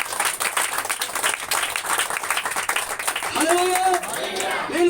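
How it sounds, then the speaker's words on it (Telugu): A church congregation at a Sunday Baptist service claps loudly together, a dense patter of many hands filling the room, then a voice rises in song or exclamation over the fading applause near the end. "గట్టిగా చప్పట్లు కొట్టు."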